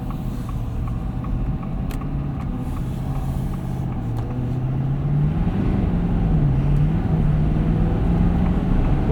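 A 2023 Ford F-250 King Ranch Super Duty crew cab with a 6.7L V8 diesel and 10-speed automatic accelerating, its low engine drone rising steadily in pitch and growing slightly louder as it pulls, heard from inside the cab.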